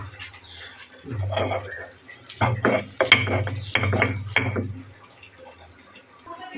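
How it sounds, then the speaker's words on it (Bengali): Dried fermented fish (chepa shutki) being ground by hand on a stone grinding slab, giving repeated rough scraping strokes in a steady back-and-forth rhythm, close and fairly loud, with brief pauses between bursts. "এখন আমি পাটায় এটাকে বেটে নেব"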